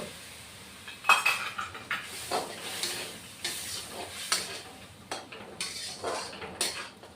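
Mustard paste frying in a pan for a fish curry, with a spoon repeatedly scraping and clinking against the metal in irregular strokes over a soft, steady sizzle.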